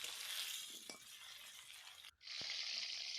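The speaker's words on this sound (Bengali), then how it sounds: "একটা কড়াইতে কিছুটা পরিমাণ সর্ষের তেল দিয়ে তার মধ্যে এই আলুগুলোকে ভেজে নিতে হবে" Potatoes fry in mustard oil in a wok, giving a soft, steady sizzle with a couple of faint clinks of stirring, heard from close by and without any talk.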